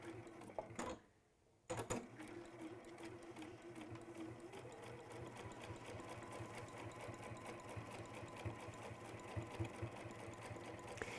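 A sewing machine stitches bamboo fabric with a fast, steady mechanical chatter close by. It breaks briefly near the start, then runs on at an even pace with no talking.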